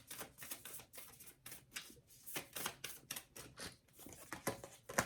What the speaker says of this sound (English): The cards are flying out my hands.